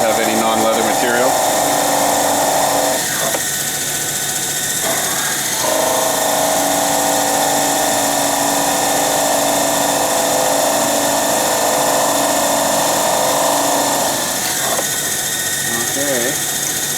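A cue lathe turns a G-10 jump tip, giving a steady, loud mechanical whine and hum with a high-pitched tonal drone that runs almost the entire time, briefly dipping twice as the cut pauses.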